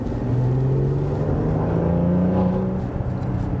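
Maserati Levante S Q4 SUV's 3.0-litre V6 accelerating in sport mode, a loud, steady engine drone with a rising tone that climbs over several seconds, close and without talk.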